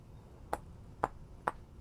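Three sharp chisel taps on a block in the game Vintage Story, evenly spaced about half a second apart, each a short bright knock standing alone over faint background hum.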